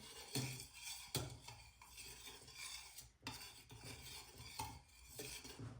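A spoon stirs sugar into a large pot of tea for homemade kombucha, scraping and clinking against the pot in steady repeated strokes with sharper knocks, close and clear with no voices.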